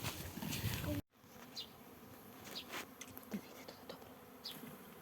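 A dense buzzing of a bee swarm shaken from a tree, hovering nearby, a continuous drone with individual insects swelling louder as they pass close.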